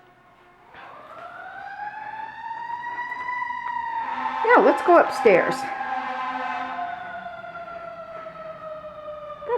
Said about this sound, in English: That's a fire engine, as you could tell.